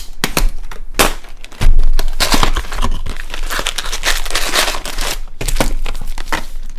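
Seal on a Panini Fortnite trading card display box torn open, heard close and loud as a run of crinkling, ripping and cracking cardboard and plastic, with several sharp snaps and a sustained tear.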